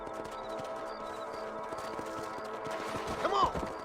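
Horses ride across a ranch in the video game Red Dead Redemption, their hooves beating out a steady, rhythmic clip-clop under game ambience, with a character voice speaking near the end.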